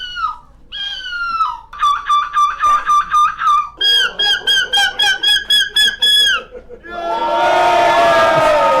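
Crowd of people imitating seagull calls, many voices screeching together in a long run of rhythmic bursts, then breaking into loud cheering and roaring at the end.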